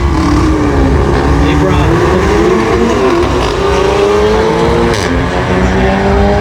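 A VW Golf blasts down a drag strip at a Brisbane jamboree, its engine screaming loudly through rising gear changes with a brief tyre squeal, while a commentator talks over the run.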